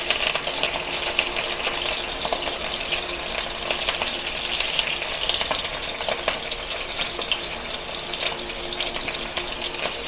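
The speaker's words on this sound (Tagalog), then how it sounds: "Bago ipa-fry muna natin siya." Pork ribs marinated overnight in lemon, pepper and soy sauce fry in a pan with a loud, constant sizzling hiss and scattered pops that run without a break throughout.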